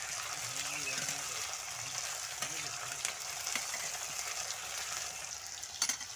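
Potatoes and kundru (ivy gourd) sizzle steadily in a pan for a spiced Indian vegetable dish, a continuous hissing fry with occasional stirring clinks, close and even throughout.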